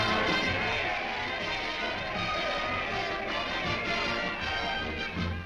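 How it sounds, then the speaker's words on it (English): A hometown crowd in a wartime cartoon cheers a returning soldier, a dense, loud wash of shouting and clamor that runs unbroken throughout. "Look at that crowd."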